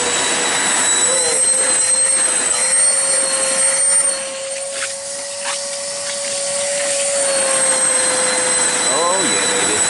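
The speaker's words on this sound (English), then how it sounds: "it's just a shitty hoover that I bought for a tenner to clean cars" Loud, droning cheap vacuum cleaner sucking water from a BMW E36 car carpet close by, its motor pitch shifting slightly as it sucks, with a brief dip in the middle.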